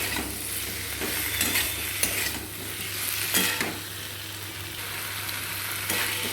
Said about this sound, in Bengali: এই মশলাটা কষিয়ে নিলাম নিয়ে আলু দিয়ে আবারও একটু কষিয়ে নিচ্ছি